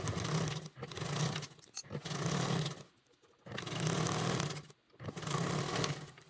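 A sewing machine stitches a zipper seam on a small crossbody bag, running close and loud in several bursts separated by short pauses.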